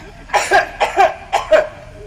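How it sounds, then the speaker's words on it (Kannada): Three or four close, loud coughs in quick succession, each a rough, throaty burst with short pauses between. "ಕೆಮ್ಮು"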